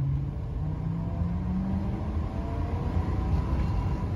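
A 1965 Pontiac Bonneville's engine revs as the car accelerates, giving a steady, loud rumble with a rising whir that holds throughout, with no talking.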